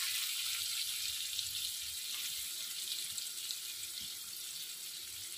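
Chopped onions sizzle in hot oil with garlic and green chillies while making red sauce pasta, a steady, moderately quiet hiss that holds evenly throughout with no talking.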